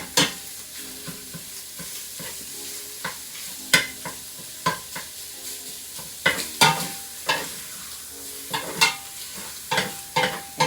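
Loose sausage frying in a pot for Zuppa Toscana, stirred with a spoon: a constant close sizzle broken by repeated sharp scraping and clacking stirs at irregular intervals, with no talking.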